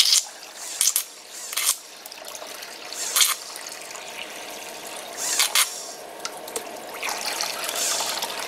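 Coolant floods over the work of an SFX-4000B portable broken tap remover. Splashing, gushing bursts of liquid come and go over a steady trickle, close and fairly loud.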